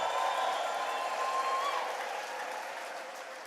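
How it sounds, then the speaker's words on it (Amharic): A church congregation applauding and ululating, sustained dense clapping mixed with a high trilling cry that fades slightly toward the end, loud and close, filling the room. "እልልታ ጭብጨባ ምስጋና ለጌታ ታመጣ።"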